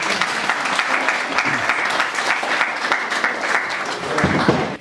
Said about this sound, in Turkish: Beni alkışlarla buraya al.